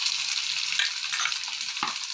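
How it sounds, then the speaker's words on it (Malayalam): Sliced onions sizzling in hot coconut oil in a pan, a steady close crackling fry with occasional stirring scrapes, no speech. "വെളിച്ചെണ്ണ ഒഴിച്ചു. ഇനി അതിലേക്ക് മുറിച്ച് വെച്ച ഉള്ളിയും കൂടെ ഇടുകയാണ്."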